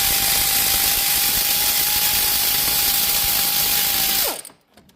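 A ratchet working on the alternator bolts of a 1.8L Toyota Corolla gives a fast, continuous mechanical whir with a steady whine for about four seconds, then cuts off abruptly into near silence.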